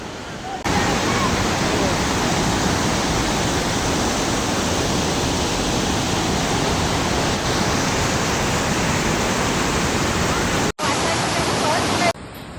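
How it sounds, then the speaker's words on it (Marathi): Water rushes forcefully near a waterfall at Khopoli, making a loud, steady roar that fills the whole stretch, with one brief break near the end. "बघा किती जोरात पाणी आहे"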